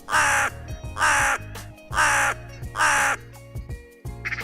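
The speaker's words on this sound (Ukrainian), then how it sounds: "Ворона." A crow caws loudly and close by, four long harsh calls in a slow even rhythm, each followed by a brief lower rattle. The caws stand alone with no voices.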